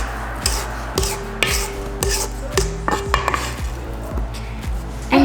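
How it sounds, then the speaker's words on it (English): A utensil scrapes around the sides of a mixing bowl during baking, making repeated rasping strokes and small clinks that are close, moderately loud and irregular. "Then it says to scrape the sides."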